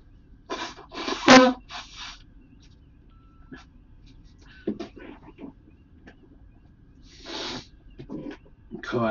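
A man's sneeze bursts out loudly near the start, followed by faint clicks and quiet game sounds aboard a starship in an online space game.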